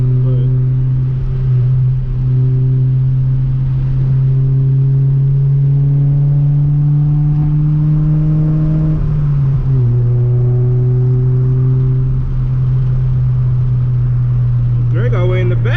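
A Honda Prelude fitted with a test pipe drones loudly from inside the car while driving, holding a steady pitch that climbs slowly, drops once as it shifts, then settles, with people talking over it.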